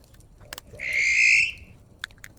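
A bird gives one loud, drawn-out whistled call in a forest clearing on a Canadian overland route, framed by a few faint clicks and taps, with no talking.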